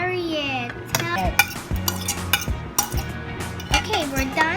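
Banana cake batter is mixed in a bowl with a utensil, giving repeated clinks and scraping knocks against the bowl. A melodic voice sings over the stirring.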